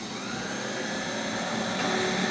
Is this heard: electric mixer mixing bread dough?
yes